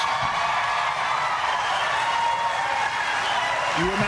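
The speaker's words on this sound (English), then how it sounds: "the crowd is cheering for Nikki Haley" Debate audience at the first 2024 Republican primary debate cheering and applauding for Nikki Haley, a dense, steady wash of clapping and crowd noise with faint whoops.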